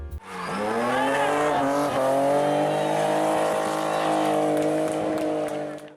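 A loud, sustained BMW engine roar that climbs and holds at high revs, with tire squeal mixed in, close and continuous throughout.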